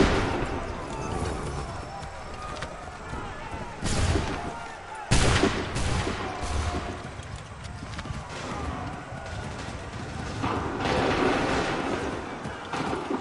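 Soldiers' gunfire in Assassin's Creed 3, a video game: repeated shots and volleys over a constant din of battle, with several louder reports standing out in the middle and near the end.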